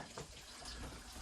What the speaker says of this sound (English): I get the water in. The water's got to go, and then the chicken.